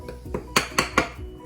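Buckwheat cake batter stirred in a bowl, the spoon striking the sides in several distinct clinks, three louder knocks in a steady rhythm, close and clear with no talking.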